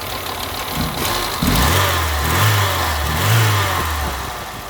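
A Citroën BX car engine running nearby after a repair, idling with a low steady rumble that rises and falls through a few gentle revs, a faint clicking pump underneath.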